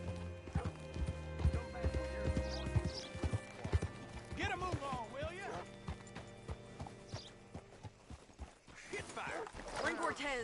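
Hooves clip-clop at a steady walk in the Red Dead Redemption 2 video game, close and rhythmic, slowing to a stop, with a horse whinny and characters talking over it.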